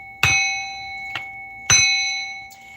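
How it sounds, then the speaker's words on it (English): A hand bell used for energy clearing at a tarot reading is struck twice, each time ringing out clearly and fading slowly, with lighter tinkling touches in between; close and fairly loud, with no talking. "Ring this bell."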